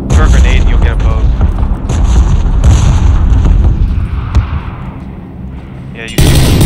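A grenade going off in the battle-royale game PUBG: a loud, deep boom with a rumbling tail that slowly fades, followed by a sudden burst of game noise at the end.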